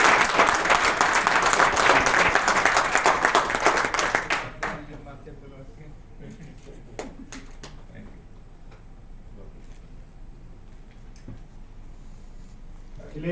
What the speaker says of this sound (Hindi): ताली बजने से फोटो अच्छा आता